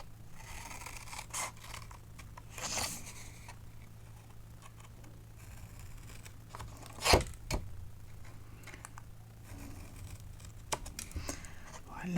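Paper is being cut for a decorative photophore, with scissor snips and crisp paper rustles scattered over a quiet room hum, plus one sharper louder rasp midway.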